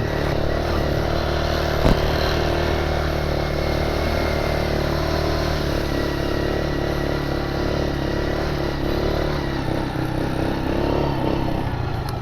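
A Can-Am DS 70 youth ATV runs over soft gravel, its small engine holding a steady, fairly loud drone with little change in pitch, close by, and one brief sharp knock early on.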